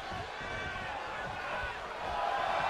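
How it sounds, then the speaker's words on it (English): A virtual arena crowd in the WWE 2K23 wrestling game roars steadily during a tag team match, a dense, distant-sounding wall of cheering that swells slightly toward the end. "The sound of this crowd is deafening, and he's asking for more."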